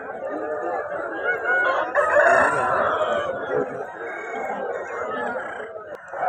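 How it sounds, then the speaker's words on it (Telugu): Roosters crow at the busy Friday chicken market in Nallapadu, loud overlapping calls mixed with clucking fowl and crowd murmur that run throughout. "శుక్రవారం మార్కెట్ కోళ్ళ సంతకు వచ్చాము."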